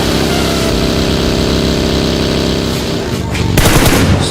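A buggy engine drones steadily in a BGMI battle royale match, loud and continuous, with gunfire and game noise bursting in near the end.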